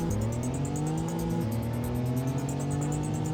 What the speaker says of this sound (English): Oh, my engine sounds correct now.